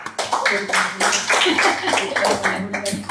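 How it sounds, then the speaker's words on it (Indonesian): An audience at an Islamic talk gives a round of clapping, with bursts of hands coming in uneven waves while a person keeps talking over it. "Tepuk tangan dulu dong."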